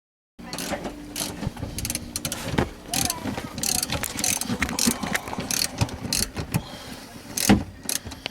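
A ratchet with a long extension and a 15mm socket works a seat bolt loose inside a GM/Chevy car, giving close, irregular clicking bursts and rattles with short pauses between strokes.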